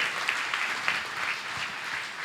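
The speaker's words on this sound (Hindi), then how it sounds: "तालियां बजा दें भैया एक बार।" Seated audience at a Jain religious gathering in Shikharji applauding, steady faint clapping from a crowd heard at a distance, even and continuous.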